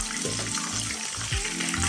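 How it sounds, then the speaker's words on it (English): Steady crackling sizzle of fish frying in hot oil in a pan, close and continuous, with no talking. "cook for at least 2 minutes per side or till golden brown"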